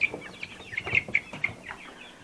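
Newly hatched chicks peep and chirp in quick, high bursts, a scattered series of short calls close by with no voices.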